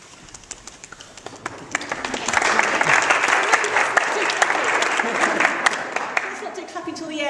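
Audience clapping after a talk on Metta Bhavana meditation, starting as scattered claps, swelling into full steady applause, then tapering off.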